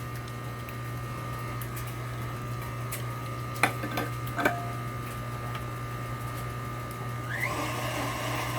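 Electric tomato strainer pressing tomatoes into juice and pulp, a steady motor hum dominating throughout, with a few brief ticks and clicks and a slight rise in whirring toward the end.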